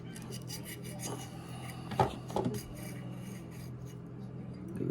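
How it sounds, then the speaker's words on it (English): A file rasps along the slide of a Ruger P345 pistol in short, close scraping strokes with a couple of sharper metallic clicks, set against a steady low hum. "I'm gonna file this slider here a little bit"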